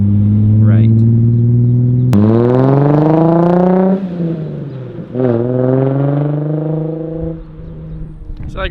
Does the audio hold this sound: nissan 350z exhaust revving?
yes